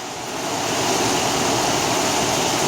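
Heavy rain pours down steadily as heard from a balcony, a loud, dense, continuous hiss that swells slightly at the start and then holds evenly, with no voices.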